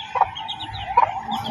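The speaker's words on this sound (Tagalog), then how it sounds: "Manok ko. Inaalagaan po natin dahil umalis nga po tayo. May mga sisiw na pala." A hen and her chicks cluck at a rural farmyard, with soft low clucks and a couple of brighter peeps over a steady background.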